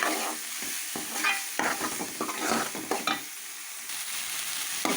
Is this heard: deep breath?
no